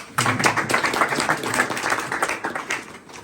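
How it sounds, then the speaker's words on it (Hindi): A small group at a Himalayan night camp in Dhanaulti claps together for a guest, a dense, close burst of hand claps that starts abruptly and carries on steadily before tapering off. "इनके लिए ताली बजाओ"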